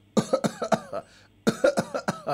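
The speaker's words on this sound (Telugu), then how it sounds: "ఒక అమ్మాయి పెళ్ళిలో దగ్గుతుందట" A girl at a wedding coughs, voiced by a performer in a comedy skit: a quick run of hoarse, close coughs, a short pause, then a second similar burst.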